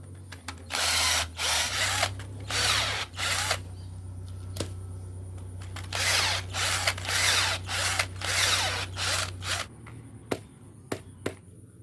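A power drill bores a hole in a steel bang fai rocket tube, about 40 cm long, in several loud close bursts of whining drilling separated by pauses, over a steady low hum with scattered clicks near the end.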